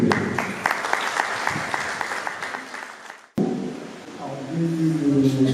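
An audience applauds the publisher of a historical monograph at an art exhibition and book signing, a dense burst of clapping that stops suddenly and gives way to a room murmur with voices.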